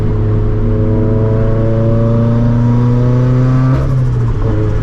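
A 400hp turbo Scion FRS engine revs loud and close, climbing hard in pitch under acceleration before a sharp break and drop near the end, with no voices.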